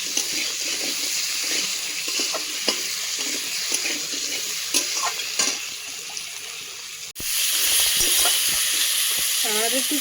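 Spotted crab frying in ghee in a pan gives a steady, close sizzle throughout, then a sudden louder burst of hissing spatter partway through as more goes into the hot pan.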